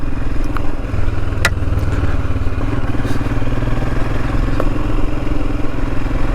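A Royal Enfield Himalayan motorcycle rides along Cornish country lanes, its single-cylinder engine thumping steadily and loudly at close range throughout, with slight rattles and wind noise.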